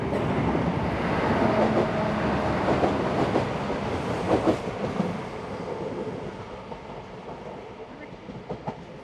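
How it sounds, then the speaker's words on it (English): A passenger train, an Explorer set in New South Wales, rumbles past close by, its wheels clacking rhythmically over the rails before the noise gradually eases off. "As the two locos await their train, an Explorer set passes through."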